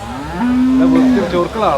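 A bull at a cattle market near Peruvallur gives one long, loud low moo that rises, holds steady for most of a second, then breaks into rougher bellowing, with market noise underneath.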